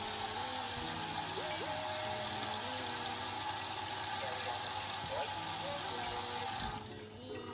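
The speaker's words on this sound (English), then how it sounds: "I'm just taking a bucket with some hot water" Hot tap water running steadily into a bucket, a constant loud rushing stream that stops abruptly near the end, with faint speech-like tones murmuring beneath.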